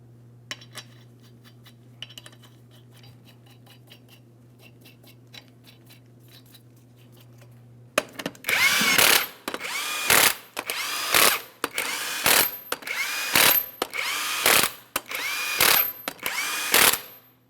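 A power tool, such as an impact gun or drill, runs down the 22mm lug nuts on the front wheel of a 2007–2014 GMC Sierra 2500 HD. After quiet garage hum come about nine loud, close whirring bursts in quick succession, separated by brief pauses.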